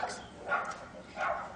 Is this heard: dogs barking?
yes